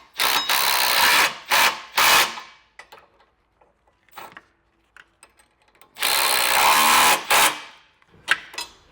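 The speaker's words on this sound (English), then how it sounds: "you can grab your 9/16 and tighten up these bolts." Ratchet wrench with a 9/16 socket tightening base plate bolts on a 2024 Chevrolet Trax, heard as several loud bursts of rapid mechanical clicking with short gaps and small scattered clicks between them, no talking.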